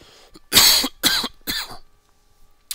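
A person coughs three times in quick succession, loud and close, each burst harsh and short, followed by a faint click.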